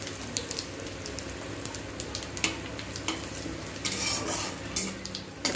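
Dried red chillies, cumin and a pinch of asafoetida crackle in hot oil for a dal tadka, a steady close sizzle with occasional brighter pops and faint clinks of a spoon against the pan.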